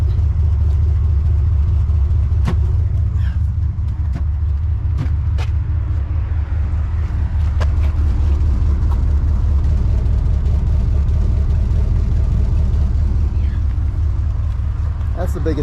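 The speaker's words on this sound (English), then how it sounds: "The back muffler does need to be replaced. You can hear it and you can see it." A 1979 Cadillac Coupe Deville idles nearby while its exhaust runs through a rear muffler with a hole in it, giving a loud, steady low rumble with scattered clicks and a voice talking over it.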